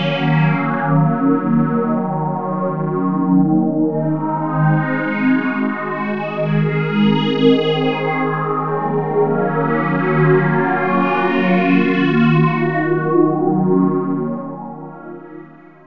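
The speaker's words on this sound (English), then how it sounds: "When the resonance is cranked, it still sounds very musical, almost organ-like." A Pigments synth voice played through a ladder filter with the resonance cranked gives a sustained, organ-like tone whose brightness sweeps up and down, loud and continuous, then fades at the end.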